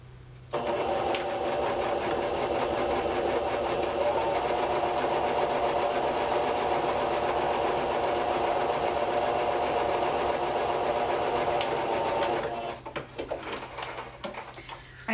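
A sewing machine stitches quilt seams for a French braid quilt, running in one continuous fast whirring, rattling burst for about twelve seconds, close and loud, then stopping with a few small clicks.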